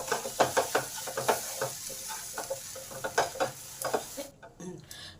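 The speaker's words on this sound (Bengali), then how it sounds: "নেড়ে যেতে হবে, কারণ তলায় ধরে যেতে পারে।" A ground paste of drumstick and chickpea dal is stirred in a pan, giving a run of close, rhythmic scraping strokes over a soft sizzle, with the stirring stopping near the end.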